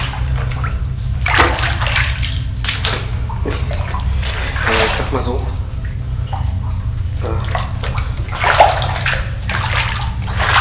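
Wading through water in an abandoned mine: repeated sloshing and splashing steps close by, loud and continuous, with a few brief words spoken.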